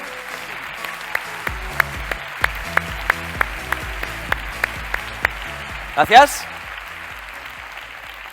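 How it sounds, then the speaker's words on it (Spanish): A conference audience at a motivational talk for self-employed workers and small businesses applauds steadily with crisp, evenly spaced claps cutting through. A brief voice rises near the end as the clapping carries on. "un aplauso para él, por favor"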